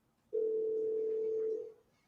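A telephone dial tone sounds at the start of a call, one steady unbroken tone lasting over a second, close and clear, then cutting off into quiet.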